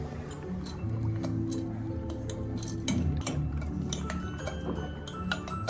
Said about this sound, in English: you can use your spoon to stir inside